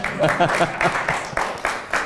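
Scattered audience applause at a university lecture on academic freedom, a short patchy burst of claps with a voice speaking over it.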